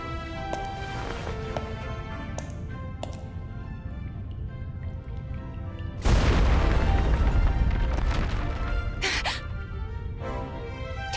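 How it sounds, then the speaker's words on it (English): A sudden deep boom of an explosion in the Reverse: 1999 video game breaks in midway, rumbling over an ongoing musical and ambient game soundtrack before fading. "Is that an explosion?"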